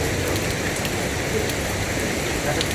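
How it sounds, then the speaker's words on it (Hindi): Heavy rain pours steadily during a disaster in a hilly region, a dense, even hiss of drops on surfaces that stays loud and constant without a break. "भारी वर्षा के बीच"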